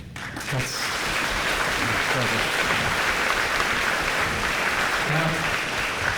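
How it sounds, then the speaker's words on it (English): Dense, continuous applause fills a science-fiction panel room at San Diego Comic-Con 2016, loud and sustained throughout, with faint voices just audible beneath it. "Now that we've all clapped for that opinion"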